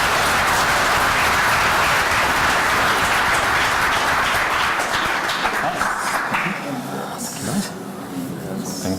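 Audience at a creative-technology panel discussion applauding, a dense, steady wash of clapping that stays loud for most of the stretch before thinning and tapering off near the end.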